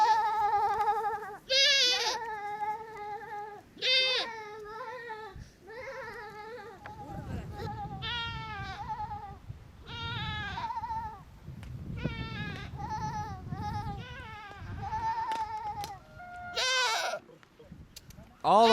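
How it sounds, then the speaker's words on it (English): Sheep and goats from a herd bleat repeatedly in loud, close, wavering calls, one after another with short gaps, over low rumbling background noise. "We had about 200 sheep, a few goats, mules, and cows."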